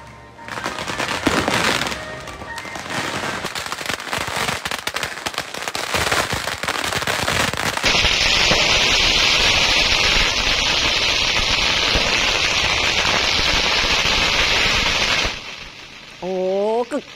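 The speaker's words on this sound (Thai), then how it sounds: "เสียงประทัดแบบนี้เกิดขึ้นสดๆร้อนๆเมื่อคืนที่ผ่านมาเลยค่ะ" Firecrackers explode in a dense, continuous barrage at the closing-night ceremony of the Phuket vegetarian festival, a loud, crackling roar that swells and holds for most of the stretch before cutting off abruptly near the end.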